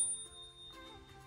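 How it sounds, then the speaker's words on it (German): Integrated bell in the brake lever of an Eskute Netuno e-bike gives a quick, soft bright ding that rings on and fades quietly, followed by faint rustling. "Integrierte Klingel im Bremshebel."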